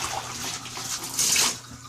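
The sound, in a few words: dirty diaper wash water being dumped in bathtub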